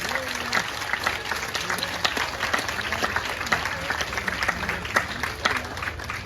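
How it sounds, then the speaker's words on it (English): An outdoor crowd at a village honoring of its Grand Marshals gives a sustained round of applause, steady and fairly loud, with scattered voices under the clapping. "Let's give a nice round of applause for Nancy Spees."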